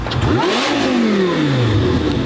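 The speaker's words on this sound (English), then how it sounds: "Dude, you want to hear my new exhaust?" A loud car engine with a new valved exhaust revs hard, its pitch sweeping up and down in a raspy, high-pitched exhaust roar, close by and continuous.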